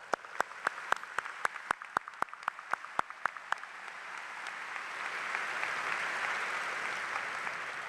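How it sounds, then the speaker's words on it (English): Audience applause at a 2013 new student convocation: a string of evenly spaced single claps, then a crowd's applause swells into a steady, dense wash that holds to the end. "Please give them a round of applause."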